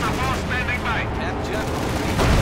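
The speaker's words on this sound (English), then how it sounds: "MG-42 following up" An MG-42 machine gun fires in Company of Heroes 2 amid loud, dense battle noise of bursts and explosions, with a commentator talking excitedly over the top.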